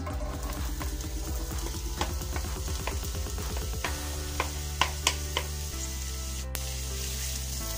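Onions hit hot oil for masala bhindi and sizzle steadily, a soft continuous frying hiss with occasional small crackles and pops, quiet and close.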